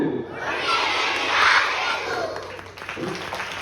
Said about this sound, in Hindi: वाह, बहुत बढ़िया ताली बजाते हैं बच्चे।